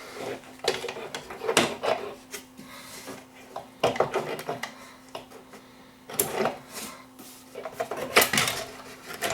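A BSR record changer is lowered back into its mounting holes in a Philips console stereo, giving several close, sharp clunks and rattles of metal and wood spaced a few seconds apart.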